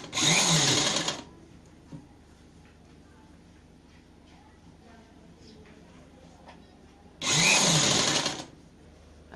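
A sewing machine stitches the neck piping of a top in two loud, steady bursts, one at the start and one near the end, with a quiet pause between.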